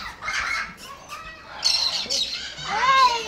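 Woodpecker squawking at a zoo, a series of harsh, loud calls close by with short chirps between them, without talk.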